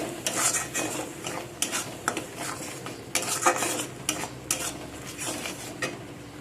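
Spice masala sautés on a low flame in a pan for a pointed gourd dish, with repeated clinks and scrapes of a metal spoon stirring over a soft sizzle, close up and without speech.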